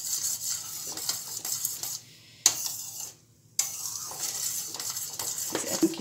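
Chocolate mousse mixture being stirred in a pan, with continuous scraping and clinking of a spoon against metal and a soft sizzle, interrupted by two brief quiet pauses, close and fairly loud.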